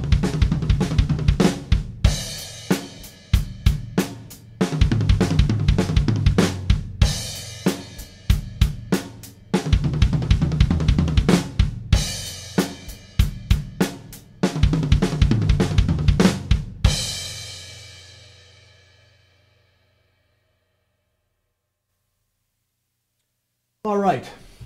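A drum kit plays a classic triplet fill in fast, rhythmic bursts of hits with short pauses between them over roughly seventeen seconds. A ringing cymbal then decays into near silence, and one last hit sounds at the very end.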